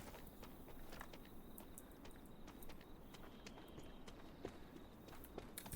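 Player footsteps in the post-apocalyptic survival shooter The Day Before, a steady run of soft crunching steps fairly close by over a constant low ambient rumble, with no talking.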